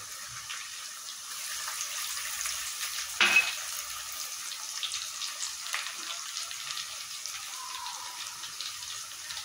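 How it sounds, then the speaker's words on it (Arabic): Onion and garlic fry in a pan, giving a steady close sizzle with a soft hiss throughout, a brief louder clatter near the middle and no talk. "البصله ابتدت تدبل معايا بقى هحط التوم."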